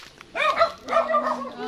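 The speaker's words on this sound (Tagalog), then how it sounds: "ang daming aso, guys" Several dogs at a mountain site yip and bark in short, close bursts, with voices mixed in.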